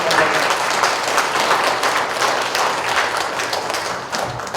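Dense, sustained applause from a breakfast lecture audience in Korea, steady and loud across the whole stretch with no pauses, many hands clapping at once.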